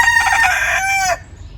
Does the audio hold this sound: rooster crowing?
yes